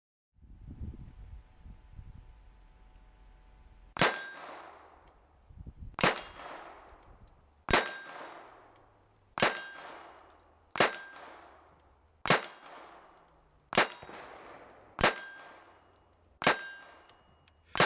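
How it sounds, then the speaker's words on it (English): A Ruger SR22 pistol fires CCI Mini-Mag .22 rounds at 25 yards, sharp, fairly loud cracks spaced about every 1.5 seconds after quiet rustling, each with a ringing tail and target clang. "Here is a 40-round string of shots as an example of accuracy and reliability at 25 yards using CCI mini mags for my ammunition choice"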